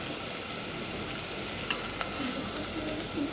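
Dried turkey berries sizzle and crackle in hot oil, a steady frying hiss with occasional pops and a faint stir.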